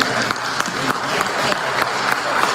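An audience bursts into hand clapping, a dense continuous patter of many hands holding steady for a couple of seconds, fairly loud, with a few voices mixed in underneath.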